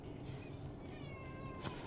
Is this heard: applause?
no